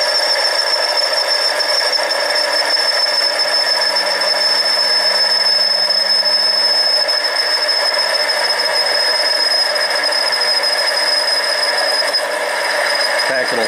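A Harbor Freight 7x10 mini lathe cuts an aluminum tube with a steady, continuous machining whine and a sustained high tone, loud and unbroken throughout.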